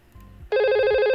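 An IP phone ringing out in Cisco Packet Tracer network simulation software: after a near-silent moment, a steady, loud electronic ringback tone starts abruptly and holds without a break, with no voices.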